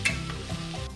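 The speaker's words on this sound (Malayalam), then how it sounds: "ഇനി നമുക്ക് ഇതിനെ തുറന്ന് വെച്ചങ്ങ് റോസ്റ്റ് ചെയ്തെടുത്താൽ മതി." Bitter gourd roasting in an open pan, giving a steady soft sizzle with a few stirring scrapes, close and moderately quiet, no voices.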